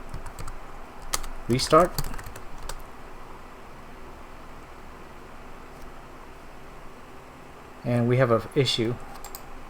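Keys clatter on a computer keyboard as a service restart command is typed on a Linux server, in two short bursts of quick clicks with a voice talking in between.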